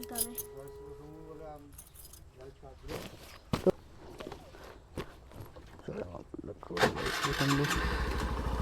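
Keys jangle and footsteps shuffle before a 110cc motorcycle, fuelled for a long road trip, starts near the end and settles into a close, steady idle. Voices are heard briefly at the start.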